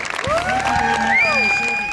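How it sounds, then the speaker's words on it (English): A crowd applauds military service members, active and veteran, at a car show gathering; brisk clapping sits beneath overlapping voices and tonal sounds over a short span. "Let's give every service member, military service member, both active and veteran, a round of applause"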